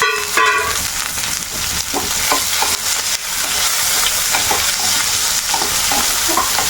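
Rice, mustard seeds and other tempering frying in hot oil for a bitter gourd theeyal, a steady loud sizzle with scattered stirring scrapes and small pops throughout, no talk.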